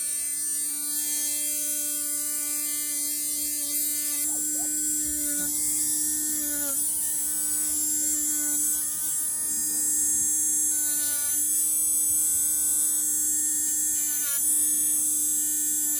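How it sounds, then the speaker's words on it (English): A Dremel rotary tool files down toenails. A steady high whine hums up close for the whole stretch, with brief dips and catches as the bit touches the nail. "I'm going to be very careful just because I don't want the Dremel to hit the skin."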